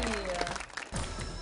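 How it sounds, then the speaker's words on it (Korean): Audience applause on a Korean TV variety show welcomes a performer who trained in ballet and traditional dance before her hip-hop routine, a steady crowd clapping mixed with voices and music. "함께 큰 박수로 마시기 바랍니다"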